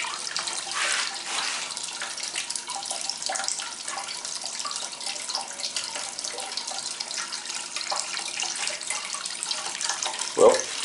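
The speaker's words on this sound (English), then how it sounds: "water input through one side, water output through the other side" Water from an inlet pump pours steadily into a tank about 14 inches tall, a constant splashing rush that lasts the whole time, with a brief louder knock near the end.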